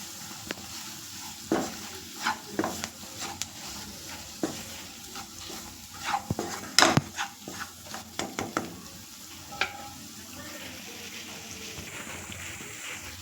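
Bamboo shoot and green gram sauté in a pan with a soft, steady sizzle, broken by irregular scraping and knocking of a spatula stirring, close-up and without talk.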